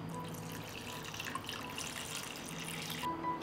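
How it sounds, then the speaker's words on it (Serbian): Water pours steadily into a cooking pot holding glass jars set on a cloth, filling it for pasteurizing; a continuous close, moderately loud rushing splash that runs without pause for a few seconds, with no talking. "I sipat ćemo vodu do visine poklopca."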